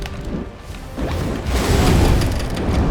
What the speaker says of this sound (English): So I'm just going to focus on landing my fireball, and then I'm going to dodge.